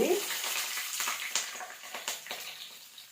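Mustard seeds, dried red chillies and garlic frying in hot oil in a pan for a fenugreek leaf chutney, a bright close sizzle with small pops and crackles, loudest at the start and easing off over a few seconds.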